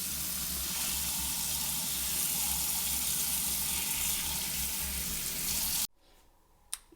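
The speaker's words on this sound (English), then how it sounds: "We go ahead and put water." Water pouring from a tap over cut potatoes in a pot, a loud, steady rushing splash for about six seconds that stops abruptly, followed by a faint knock.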